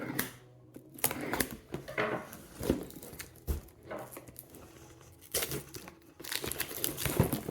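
Plastic wrapping on a Kings of War miniatures package crinkles and tears as the box is opened, with irregular rustling bursts and a few sharp clacks of handling, fairly close and with no talk.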